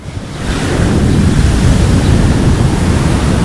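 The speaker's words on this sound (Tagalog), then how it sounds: "ngayon narito tayo sa dalampasigan na Garchitorena. So sobrang lakas ng bukol ngayon." Strong surf pounds the beach at Garchitorena, Camarines Sur as a loud, continuous roar of breaking waves mixed with wind rumble, close and unbroken, with no voices.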